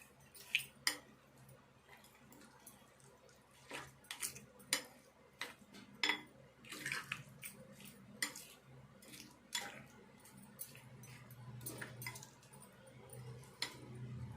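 Green chili and boiled amla chutney is mixed in a stone mortar, giving soft, scattered, irregular clinks and scrapes with wet squishes, close and faint, without talk.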